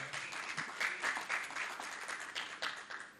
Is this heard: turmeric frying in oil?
no